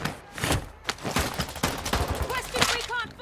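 Bursts of video game gunfire crack in rapid volleys over a game's combat soundscape while a player talks over them and other voices chatter.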